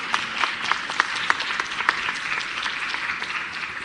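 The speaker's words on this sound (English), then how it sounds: "a huge round of applause for our speakers" Audience applause for speakers at an HIV community health conference, steady dense clapping filling the room throughout, fairly loud and continuous without speech.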